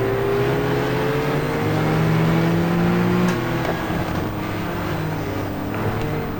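Several race car engines in the GTR2 sim at a 1994 Suzuka 4 Hour race, a dense, loud, continuous roar with whining gear notes rising and falling as cars run close together.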